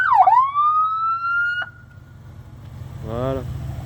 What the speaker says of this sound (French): Avec tout ce porte-voix. Il y a toutes les sirènes